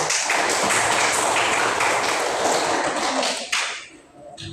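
Classroom applause, a dense burst of many hands clapping together at steady loudness that thins and fades out over the last second.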